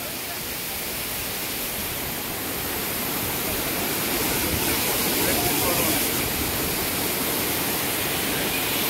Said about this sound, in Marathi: धबधब्यामध्ये जाण्यासाठी तयार